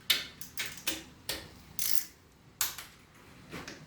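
A torque wrench clicks and ratchets in a run of sharp, close, uneven mechanical clicks while engine shortblock bolts are tightened during assembly, with no talking.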